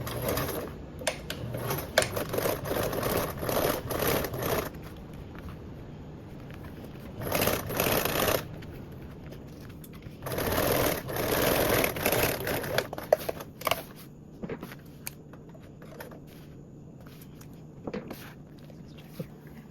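A sewing machine top stitches fabric with a 1/8 inch seam allowance, running in several loud mechanical bursts separated by quieter pauses, the clatter close and steady during each run.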